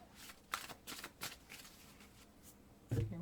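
Oracle cards are shuffled close up in a series of quick, soft riffling bursts. A firmer tap comes at the end.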